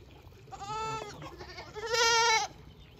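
Young goats bleat up close while sitting on a person's lap, two drawn-out nasal cries, the second louder, over faint background noise.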